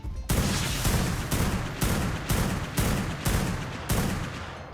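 Gunfire in the ARK Survival Evolved video game, a loud steady run of about eight evenly spaced heavy shots, each with a booming tail, heard alone.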